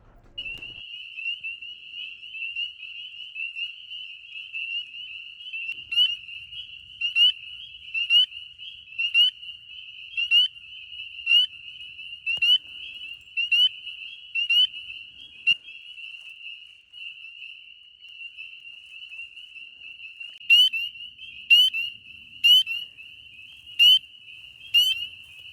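Frogs at night in the Appalachian woods keep up a steady high trill throughout, with rhythmic pulsing calls from other frogs repeating every second or so, close and clear over otherwise quiet surroundings.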